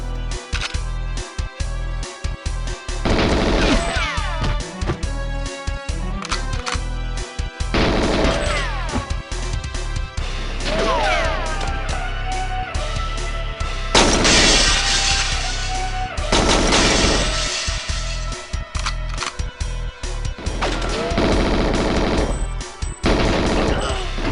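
Dense, continuous gunfire and explosive crashes from a Nintendo 64 shooter game where the player rolls and keeps firing, with rapid bursts and impacts packed loudly together throughout, with no pauses.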